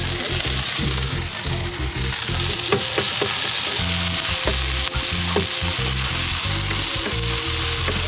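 Burgers sizzle steadily on a grill at an outdoor van life festival, with crackling and popping close by. Occasional clinks and knocks of cooking tools sound over it, and no voices are heard.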